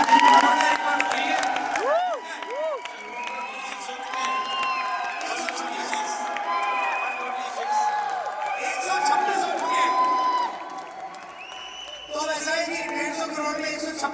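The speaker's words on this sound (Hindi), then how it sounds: "एक बार जोरदार तालियां हो यूसुफ की।" An audience at a talk gives loud applause and cheering for Yusuf, a continuous crowd roar of clapping with whoops and shouts that holds steady before easing slightly near the end.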